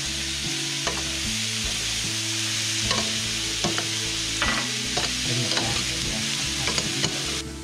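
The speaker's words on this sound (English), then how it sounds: "So we sauteed our veggies." Peppers, mushrooms and rosemary sauté in a pan for a rabbit cacciatore, a constant close sizzle broken by repeated scraping and clinks of stirring, with no talking.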